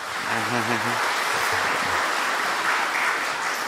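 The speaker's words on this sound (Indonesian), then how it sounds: "Oke, tepuk tangan, sudah selamat." Dense applause from a crowd at a civil servants' inauguration addressed by the Central Java governor fills the whole stretch, with a speaking voice briefly audible over it at the start.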